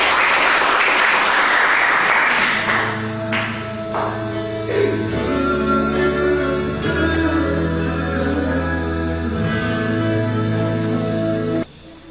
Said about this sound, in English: Give applause to Dian.